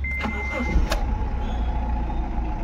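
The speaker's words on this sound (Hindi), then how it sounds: "अभी सेल मारेंगे" Honda Amaze car with an engine that had been misfiring and vibrating, cranked with the starter after the ignition is switched on; a steady mid-loud engine rumble runs throughout, with brief clicks near the start and no talking.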